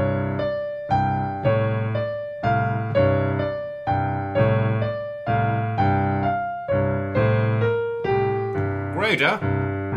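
Blues scale lines played on piano in C, an even rhythmic series of clear, close notes and chords with the melody stepping through the scale, ending in a brief flourish.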